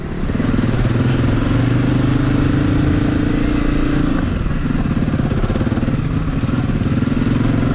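A Honda CRF250F dirt bike engine runs on a narrow trail ride. The close, loud, steady motor noise lasts throughout and shifts slightly in pitch partway through, with no speech.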